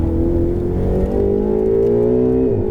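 A Ferrari 488 GTB at full throttle on a racetrack, its engine note climbing steadily in pitch as it builds speed down a straightaway, loud and continuous before dipping briefly near the end.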